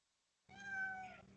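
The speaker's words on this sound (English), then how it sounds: "There's a cat in there?" A cat lets out a single clear, drawn-out meow after a moment of near silence, close and fairly quiet, with no talk.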